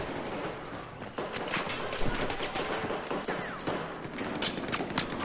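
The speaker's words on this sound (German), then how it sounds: "Knallen die mich einfach alle auf einmal ab" Rapid gunfire rattles through a Battlefield 4 match, with bursts of automatic shots and sharp cracks layered over a busy battlefield din, moderately loud and continuous.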